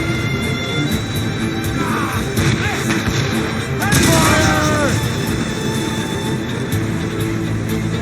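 Ship cannons firing in an Assassin's Creed naval battle, heavy booms and crashes layered over game music and shouting voices, with a bigger burst of fire midway through.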